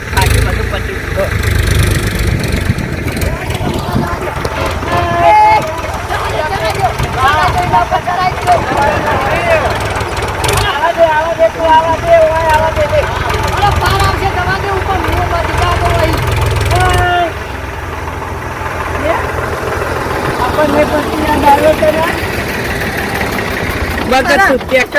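A tractor engine runs steadily at idle on a farm, a loud continuous low rumble throughout with some dips, while people talk over it.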